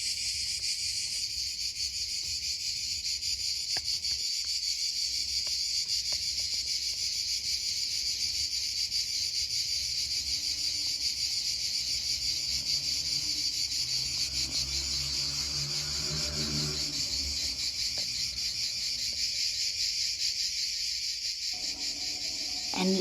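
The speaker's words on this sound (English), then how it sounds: "now I'm sitting on my terrace listening to the cicadas" Cicadas chirping on a summer evening on a terrace in Italy, a dense steady high-pitched drone that holds unbroken throughout, with faint background sounds beneath.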